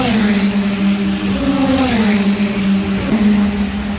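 IndyCar race cars at Road America, heard from trackside near turn 1, give off a loud, steady engine drone whose pitch rises and falls as the cars run past, with no clear break between them.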